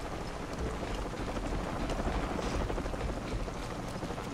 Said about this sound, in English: That chopper's just gonna chill right there